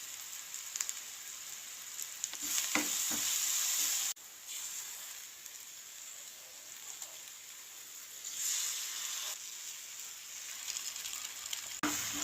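Onion, tomato, chili, Malvani masala and turmeric frying in a pan for egg bhurji in a Konkan village kitchen; a steady soft sizzle and hiss with a few brief louder surges, no talk.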